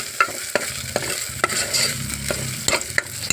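Ginger paste fries in hot oil for a mutton curry, a steady close sizzle broken by regular clinks and scrapes of a spoon stirring the pan, with no voices.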